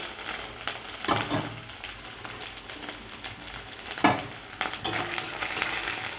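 Ginger and garlic fry in hot oil for a Bengali fish curry, a close, moderate sizzle broken by louder scraping bursts as the spoon stirs, with no voices.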